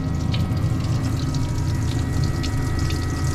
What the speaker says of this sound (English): Now these got auto bilge pumps too.